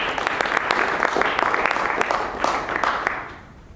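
At a Toastmasters public speaking meeting in Cluj, a roomful of people applauds, with crisp individual claps merging into steady clapping that fades out at the end.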